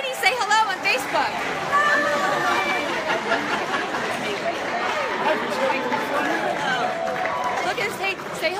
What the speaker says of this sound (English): this is where it really gets loud. Look at this crowd